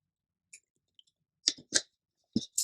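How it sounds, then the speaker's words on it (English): A person takes a drink of water, a few soft separate sips and gulps close to the microphone with quiet pauses between them. "Taking a drink of water."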